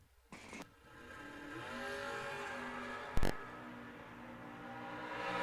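A 1967 Camaro drag race car dialed at 5.46 launches at a Dixon City drag strip, a loud sustained engine roar rising and holding steady, with a sharp burst of noise partway through.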